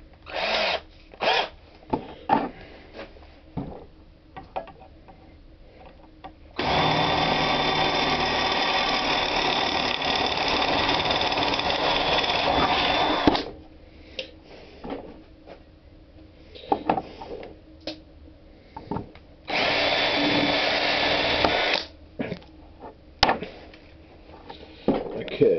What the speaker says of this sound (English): We'll make that hole bigger.